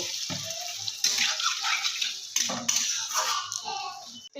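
Water pours into a pan of boiled bitter gourd and potato, splashing in uneven bursts with clinks of utensils against the pan, close and fairly loud.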